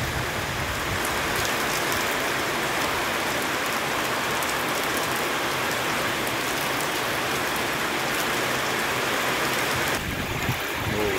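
Heavy thunderstorm rain pours down steadily during a storm where kites were being flown outdoors, a dense, loud, continuous roar of drops with no pauses for the whole stretch.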